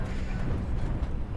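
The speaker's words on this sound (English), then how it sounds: "That's the sound of those heavy Gauss going off." Deep, thundering booms of heavy Gauss rifles firing in the MechWarrior Online game, a continuous low rumble of overlapping blasts that stays loud throughout.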